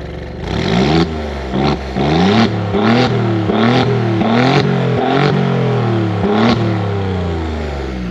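An Alfa Romeo Giulia Quadrifoglio engine revs hard through its exhaust in a rapid series of about eight sharp throttle blips over a steady idle, loud and close with no talk.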